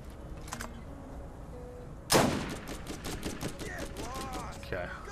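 Gunfire in Borderlands at a bandit camp: a sharp burst opens after a quiet stretch, followed by a rapid series of repeated shots with decaying tails, loud and close, with faint game sounds underneath.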